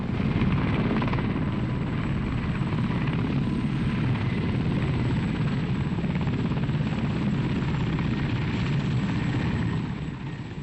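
A helicopter flies past with a continuous, loud rotor roar and whine that holds steady throughout and eases slightly at the very end, with no voices over it.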